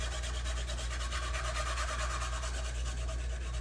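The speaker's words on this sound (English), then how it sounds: "We're gonna hit her with the Scotch-Brite." A Scotch-Brite pad scuffs a surface being prepped for hydro dipping, giving a steady, continuous rubbing rasp close up with a low hum underneath and no talking.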